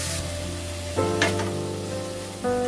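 Ground fennel, ginger and green chilli paste hitting hot oil in a pan, a steady close sizzle with a couple of sharper bursts as the paste is added and stirred, no talk.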